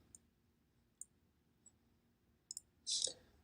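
Several sharp mouse clicks on a browser tab, near and crisp: single clicks spaced apart, then a quick double click, ending in a brief louder burst of noise.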